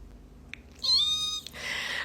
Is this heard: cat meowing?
yes